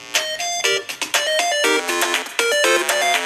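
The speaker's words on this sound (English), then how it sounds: "That is my phone ringing because everything goes through my phone." A mobile phone rings in a guitar repair workroom, playing a bright melodic ringtone of short repeating tone phrases, fairly loud and close, with no talking over it.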